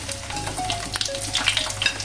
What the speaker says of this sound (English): So let's fry our eggplant.